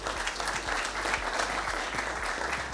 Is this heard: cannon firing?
no